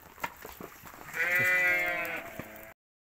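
A single drawn-out sheep bleat rings out nearby, preceded by a few soft knocks and rustles.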